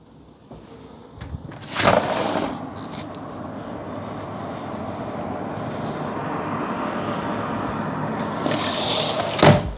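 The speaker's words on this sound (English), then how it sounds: "I'll pause for a second so we can hear what the traffic sounds like from outside." Street traffic outside a house in Portland, Oregon, in the Crestwood, Mt Tabor and Hillsdale area: a steady muffled wash of passing cars, with a window opening near the start and a louder window movement at the end, and no talking.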